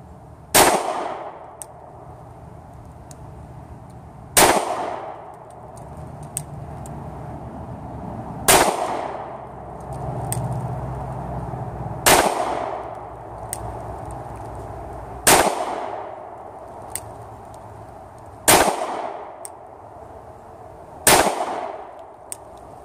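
Handgun firing self-defense ammunition at 7 yards, heard as seven loud, sharp single shots spaced a few seconds apart, each with a ringing decay, and no talk.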